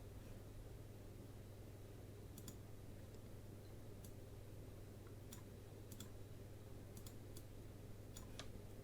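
Computer mouse double-clicking: faint, crisp paired clicks scattered through a quiet stretch, light and close, over a soft steady hiss.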